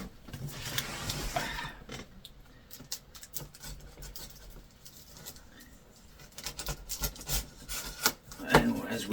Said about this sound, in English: cut down through the top of the box here